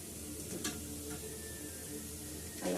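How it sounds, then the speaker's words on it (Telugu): Ridge gourd peel fries in a pan for chutney, a soft, low sizzle with a few faint scraping stirs over about three seconds, quiet and close, with no voices. "బీరకాయ పొట్టు పచ్చివాసన అంతా బాగా పోయేంత వరకు వేగనిద్దాం"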